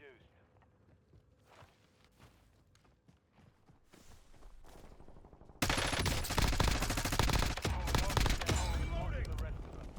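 Rapid submachine gun fire with a monolithic suppressor in a first-person shooter game, a loud sustained burst kicking in partway through after quieter footsteps and movement, with a voice talking over the action.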